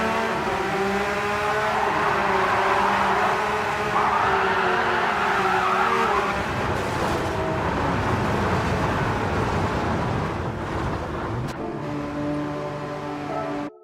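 Porsche Cup race cars in Gran Turismo 7 brake hard and skid, tires squealing in sustained loud pitched tones over steady engine roar, with a brief sharp knock near the end.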